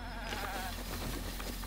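A goat bleating in the video game The Legend of Zelda: Breath of the Wild, one wavering cry heard clearly over a constant background ambience.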